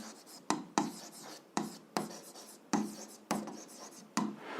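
Handwriting with a pen or chalk during a Ukrainian 8th-grade physics exercise, a string of quick scratchy strokes with sharp onsets at uneven intervals, close and moderately quiet, with no talking.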